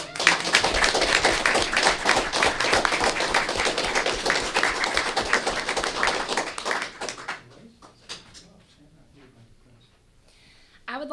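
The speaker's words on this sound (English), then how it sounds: "let's give him a round of applause" At a county school board meeting, the room gives a round of applause, dense clapping from a modest crowd lasting about seven seconds before tapering off into quiet room noise and a few scattered sounds.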